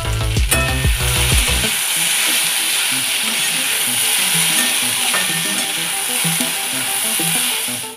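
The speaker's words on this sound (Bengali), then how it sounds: "এবার আমি এটাকে ভালো করে ভাজবো।" Jackfruit seeds and kharkol stems frying with green chilli, turmeric and salt in a pan: a few sharp clattering stirs at the start, then a loud, continuous close-up sizzle, with no talking.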